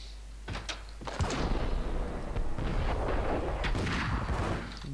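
Gunfire in the Max Payne shooter, with a few sharp booming shots followed by dense, reverberant bursts of firing and impacts over a constant low rumble.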